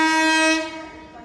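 The Shatabdi Express running from KSR Bangalore to Chennai Central sounds one loud, sustained horn blast that cuts off and fades after about half a second, heard alone.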